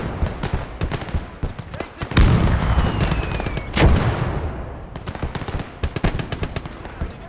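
A .50 cal machine gun fires in a World War II video game: rapid, loud bursts of rounds with heavy booming blasts between them, all close and dense.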